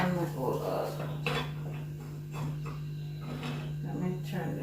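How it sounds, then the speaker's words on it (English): A metal lid set back onto a cooking pot of Jamaican rice and peas on the stove, a few close clanks and scrapes of cookware over a steady low hum, with a person talking. "I'm just going to cover back the pot."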